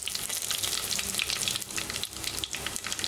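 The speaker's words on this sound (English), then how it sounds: "into this ghee and oil mixture, first add this whole garam masala, and next these mustard seeds and cumin seeds to it" Whole garam masala, mustard seeds and cumin seeds sizzle in hot ghee and oil, a bright crackling spatter with sharp pops and brief stirring scrapes, loud and close with no voices.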